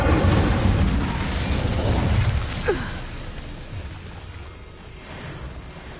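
Incendio fire spell in Hogwarts Legacy, a loud rushing roar of flame that starts strong and slowly fades, with a small crackling pop midway through the burst.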